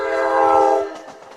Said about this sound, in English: how many times you'll be able to hear a New Jersey Transit train right behind me here at Count Basie Field